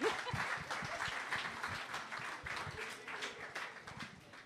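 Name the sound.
audience applause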